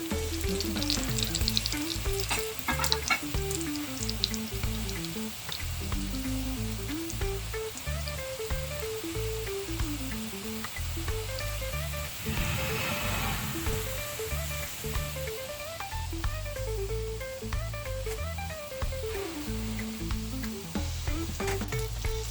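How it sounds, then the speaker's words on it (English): Hot oil sizzles and crackles steadily as breadfruit fries, with a constant frying hiss and occasional louder spatters, no one speaking. "my breadfruit is almost finished frying"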